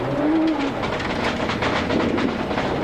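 Damaged rally car after leaving the road on a New Zealand gravel rally stage, rattling and clattering as it moves, with a steady rumbling rush throughout.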